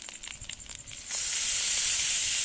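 Onion, garlic and ginger paste drop into hot oil in a kadai after fish has been fried in it. A few light clicks come first, then a sudden loud, steady hiss of sizzling nearby.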